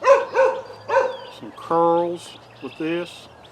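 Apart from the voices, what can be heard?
dog barking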